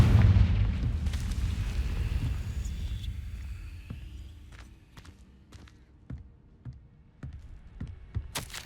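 Heavy blast from the Confringo spell in Hogwarts Legacy opens with a deep rumbling boom that fades slowly, followed by sparse sharp clicks and thuds as debris and footsteps settle.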